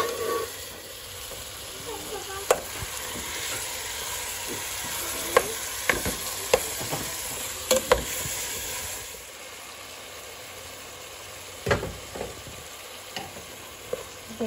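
Ground meat added to a hot pan and frying for a spinach and cheese lasagna sauce, a steady close sizzle broken by scattered scrapes and clacks of stirring, quieter toward the end.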